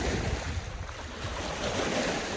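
Water waves lap along the Sea of Galilee shore at Capernaum, a steady, close washing rush mixed with light wind noise and no voices.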